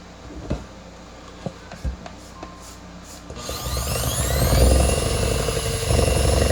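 An electric mixer beats two large eggs into strawberry cake batter, starting after a few light knocks and clatters, then whirring steadily and loudly with a rising motor hum until the end.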